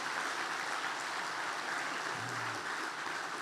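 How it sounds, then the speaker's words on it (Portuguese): Applause from a congregation in a church, a dense, even wash of clapping that holds steady at moderate level for a few seconds, with a brief low hum partway through. "Tem alguém aplaudindo, você vai deixar ele sozinho?"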